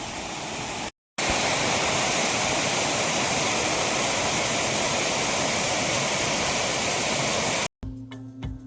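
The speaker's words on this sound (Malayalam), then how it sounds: "ഈ പാറയുടെ മുകളിൽ കൂടെ ഒഴുകുന്നൊരു മനോഹരമായൊരു വെള്ളച്ചാട്ടം" A waterfall in the Idukki hills of Kerala pours down over rock, a loud, steady, broadband roar that fills the whole stretch, briefly cut off at the start and near the end.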